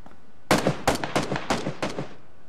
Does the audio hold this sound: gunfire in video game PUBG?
yes